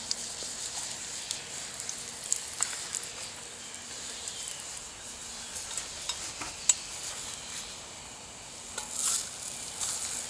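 Food fries in oil in a small GI skillet over an outdoor camp fire, a continuous soft sizzle with light ticks and pops throughout and no talk.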